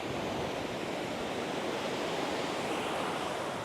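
A constant, dense roar of rushing water fills the whole stretch, broad and unbroken from a nearby waterfall in Idukki, Kerala, with no voices.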